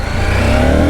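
CFMoto 800MT motorcycle accelerating, a loud close engine note climbing steadily over under a second.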